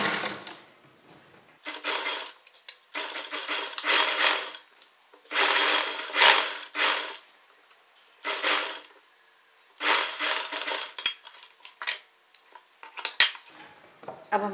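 A sewing machine stitches the side slit of a long kurti in short rattling bursts, each lasting a second or so, separated by quiet pauses as the fabric is repositioned.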